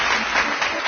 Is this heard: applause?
yes